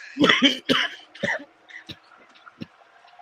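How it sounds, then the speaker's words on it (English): Several sharp coughs in a quick burst, followed by a few fainter, scattered coughs trailing off. "Who is that coughing like that?"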